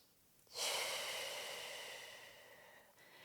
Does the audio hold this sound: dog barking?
no